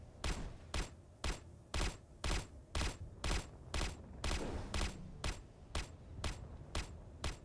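An automated turret in the Space Engineers video game fires at biological targets, its sharp shots landing in an even, rapid rhythm of about two per second, loud and close with nothing else heard.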